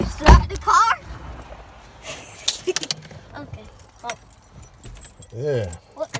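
A car key is pulled from the ignition with a sharp metallic jangle of the keyring, followed by scattered clicks and knocks inside the car while people talk.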